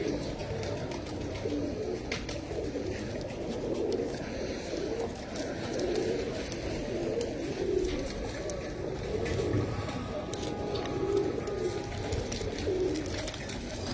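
Pigeons of Pakistani stock, including a prized hen and a pair, coo on a cold winter day. Soft, repeated rolling coos rise and fall in a steady rhythm over a low background hum.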